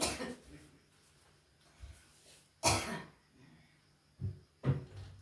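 An older woman with a week-long cough, feared to be tuberculosis, lets out several harsh, throaty coughs spaced a second or two apart, close and fairly loud in a quiet room.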